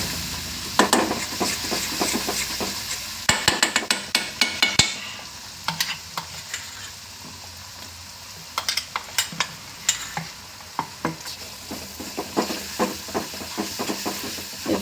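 Garlic paste sizzles in a hot pan for egg rice while a utensil stirs it, sharp scraping clicks coming in irregular bursts over a constant close frying hiss.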